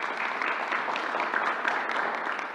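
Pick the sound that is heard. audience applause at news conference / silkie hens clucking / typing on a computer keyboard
audience applause at news conference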